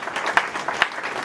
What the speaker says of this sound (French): Kunnen we applaudisseren voor de Heer?